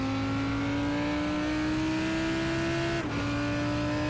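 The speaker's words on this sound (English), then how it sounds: "Did that car sound like it was spitting?" A race car engine at Donington Park drones at a steady high pitch, slowly rising as the car accelerates, then briefly dips and resumes, sounding somewhat distant with no talk.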